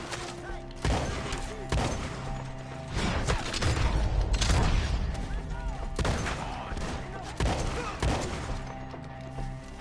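Sporadic gunshots and heavy thumps ring out during a shootout in Red Dead Redemption 2, with loud cracks spaced every second or two over a rumbling mechanical game soundscape.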